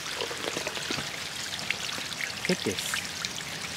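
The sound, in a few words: rain falling on stone castle steps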